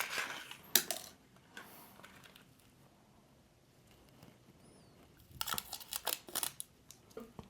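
Packaging of an Hourglass foundation brush being opened, with crisp crinkling and tearing bursts near the start and a louder rustling cluster toward the end, quiet handling in between.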